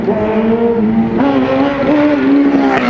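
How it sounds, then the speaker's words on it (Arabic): Motorcycle engines rev loudly and close in the streets of Al-Nabek in rural Damascus, a continuous buzzing drone that rises and falls in pitch with the throttle. "وهلا راح نفرجيكم تشبيبة الموتورات بالنبك"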